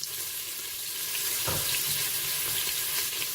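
Beef pieces browning in melted butter inside a Cookeo multicooker pot, a steady dense sizzle throughout with a brief stirring clatter midway.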